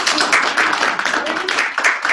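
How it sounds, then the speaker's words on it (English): A crowd at an MIT Sloan MFin information session gives a round of applause for the students, with dense, close clapping over two seconds and voices mixed in. "let's give a round of applause to our students"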